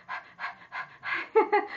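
A four-month-old baby pants excitedly in quick, rhythmic breaths, six close, loud huffs in a row like a dog panting, with no other sound.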